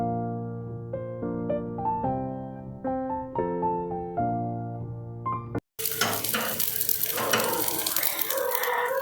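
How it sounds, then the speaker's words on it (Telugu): After a stretch of melodic background music, a loud, dense sizzle takes over as ragi flour bun dosa fries over low flame in a covered pan, crackling steadily up close. "మనం ఇలా వేసుకున్న తర్వాత లో ఫ్లేమ్లో పెట్టుకొని మూత పెట్టుకొని చక్కగా ఫ్రై చేసుకుందాము."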